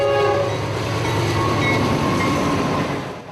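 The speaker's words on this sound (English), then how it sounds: "At St. Catherine, Florida, Q604, Winston Yard to Waycross, Georgia, mixed freight." A mixed freight train, Q604, runs by at St. Catherine, Florida, loud and close, with a sustained horn blast over heavy rolling rumble that fades slightly at the end.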